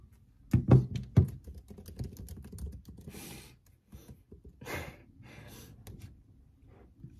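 A password is tapped out on a computer keyboard in short uneven bursts of clicky keystrokes, close and fairly quiet, with a few heavier thunks and soft breathing in between.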